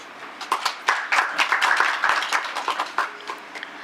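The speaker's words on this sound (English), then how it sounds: "Huge round of applause, sir." Scattered round of applause from a modest audience at an academic faculty development program session, with distinct individual claps forming an uneven, moderately loud patter.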